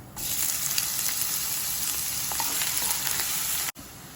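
Whole cumin seeds and chopped onion fry in hot oil for an aloo soyabean curry, a steady close broadband sizzle that runs without a break for about three and a half seconds, then cuts off abruptly.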